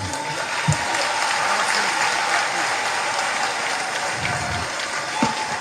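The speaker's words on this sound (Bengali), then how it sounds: "আরো জোরে হাততালি" Applause at a political rally in Falta, a steady dense clatter of many hands clapping at moderate loudness, with a few sharper claps and brief bumps near the start and end.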